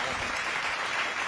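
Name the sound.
audience applause at a poetry recital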